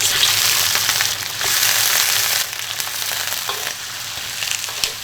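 Soft-shell turtle hits a hot wok of rapeseed oil and lard with ginger, whole garlic, scallions and dried chilies, bursting into a loud, dense sizzle with scraping stirs that eases slightly partway through.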